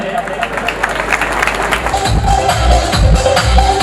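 An audience at a family community gathering breaks into hearty clapping that swells after a couple of seconds of chatter and hall noise. Voices carry on beneath the applause.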